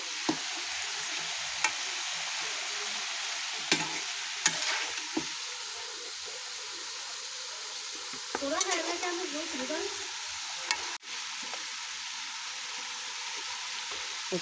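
Steady broadband sizzle of shrimp with turmeric and chili frying in a pan, continuous throughout with a few faint clicks and stirring scrapes.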